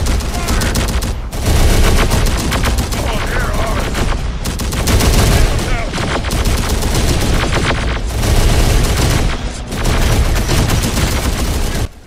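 Gunfire rages in the video game Terminator: Dark Fate Defiance, with loud, dense volleys of rapid shots and booms that keep rolling through the battle. A few very short gaps break the barrage.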